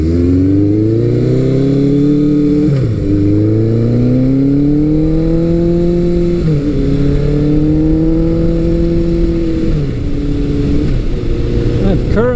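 Riding a 1982 Suzuki GS1100G motorcycle: a loud, close engine drone climbs steadily through each gear, with brief dips at the shifts around every three to four seconds.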